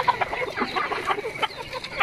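Chickens cluck repeatedly in a rural setting, a busy run of short, close clucks in an uneven rhythm with no voices over them.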